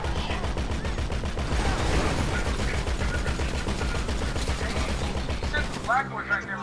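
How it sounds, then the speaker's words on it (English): Gunfire in GTA Online: dense, rapid automatic bursts of shots, loud and close, running almost continuously before a short tail of scattered sounds at the end, with no talking. "I'm gonna shoot? Fine, I'll shoot."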